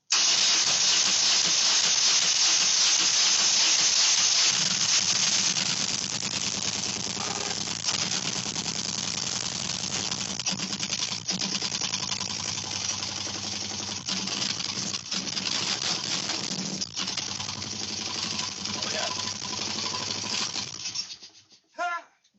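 A 90 hp Johnson outboard engine starts up while firing on only one cylinder, giving a loud, rough, hissing run with an uneven, sputtering pulse that carries on steadily before cutting off abruptly near the end.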